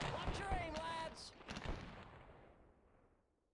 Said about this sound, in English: So artillery is helping here.